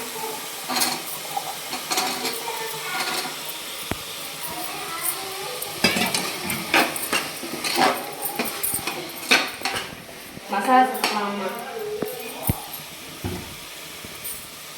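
Carrots and beans being stirred into sautéed onion, tomato and ginger-garlic paste for chicken biryani, a spoon scraping and clinking against the pan at an irregular pace over a faint sizzle, fairly quiet and close.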